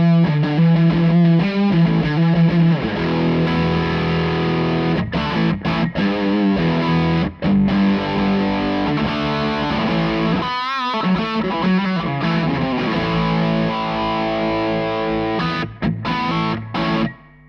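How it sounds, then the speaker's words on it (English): Electric guitar played through a high-gain amp channel, giving a thick, saturated distorted tone with sustained chords and riffs, loud and continuous with short breaks and no talking. "If I want a bit more gain, even more gain, I will hit the high gain side, which sounds like this."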